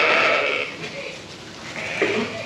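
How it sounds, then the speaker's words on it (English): Sheep bleat repeatedly inside a shed holding about 300 head. The calls are loud and close, with overlapping voices at the start and again near the end, and a quieter stretch in between. "You can see we're full up with sheep."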